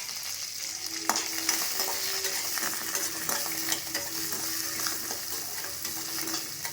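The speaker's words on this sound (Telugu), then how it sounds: "2 రెబ్బల కరివేపాకును కూడా వేసుకొని ఈ పోపును వేయించుకుందాం." Curry leaves and dals fry in oil for a Bandar chutney tempering, with a continuous crackling sizzle and occasional clicks of stirring in the pan. No voices are heard.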